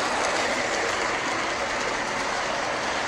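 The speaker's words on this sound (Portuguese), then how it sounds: "E vem o trem" A model railway train hauled by a BB36 locomotive and loaded with limestone rolls past on a layout, a continuous close rushing rumble with faint wheel clatter and no pause.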